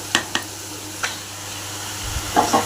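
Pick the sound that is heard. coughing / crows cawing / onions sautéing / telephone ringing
onions sautéing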